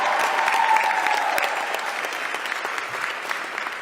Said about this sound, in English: Yeah, we should clap for them, yeah.